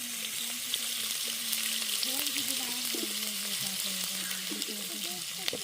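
Fennel seeds and curry leaves fry in hot oil for a country chicken curry, giving a steady close sizzle with light crackles and pops throughout, plus a faint tonal hum underneath and no talking.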